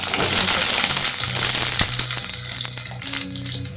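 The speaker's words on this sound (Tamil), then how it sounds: "கடுகு உளுத்து சீரகம் சேர்த்துக்கலாம்" Mustard seeds, urad dal and cumin sizzling in hot oil, a bright crackling fizz up close with small popping bursts, fading slightly toward the end, no voices.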